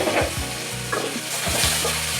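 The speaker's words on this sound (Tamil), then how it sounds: "தக்காளி நல்லா குழஞ்சி வர்ற வரைக்கும் இதையும் நல்லா வதக்கிக்கலாம்." Chopped onion and tomato sauté in a pan for Kerala-style kadala kurma, a bright sizzle with repeated stirring scrapes and clanks of the spoon against the pan, close and busy.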